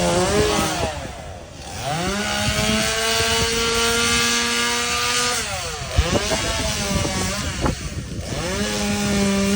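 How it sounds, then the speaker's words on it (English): A chainsaw cuts pine limbs high in a tree during a tree removal, its engine revving up and dropping back repeatedly in uneven bursts at a moderate distance. "now they're climbing it to start cutting the limbs out of the"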